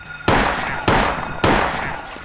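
Three sharp pistol shots in a retro video game, evenly spaced and loud, each ending in a short decaying tail.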